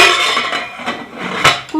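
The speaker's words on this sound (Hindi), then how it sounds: "कुकर का ढक्कन बंद करते हैं" A metal pressure cooker lid scrapes and clanks shut over a cake tin inside, with several metallic knocks and a sharper clunk near the end, all loud and close.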